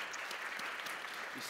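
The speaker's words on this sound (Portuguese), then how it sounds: "So, a big round of applause." Audience applause after a question-and-answer session, a faint, steady patter of clapping at a distance, continuous with no distinct claps standing out.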